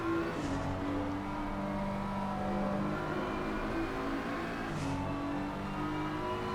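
Twin BMW race cars lap Paul Ricard in a racing game, their engines droning in a steady tonal hum with rising revs and two brief passing whooshes, no talk.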